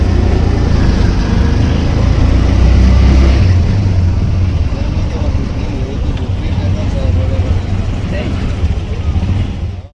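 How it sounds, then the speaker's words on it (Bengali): Heavy, continuous engine rumble from launches at the Lalkuthi launch terminal in Sadarghat, Dhaka, fills the riverside air, with people's voices mixed into the loud ambience. "তো এখন আমরা পৌঁছে গেলাম ঢাকার সদরঘাটের লালকুঠি লঞ্চ টার্মিনালে।"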